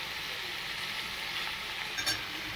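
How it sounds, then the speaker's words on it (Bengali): Chicken frying lightly with onions in a pan, a soft even sizzle at low volume with a brief clink near the end. "পেঁয়াজের মধ্যে হালকা করে একটু ভাজবো"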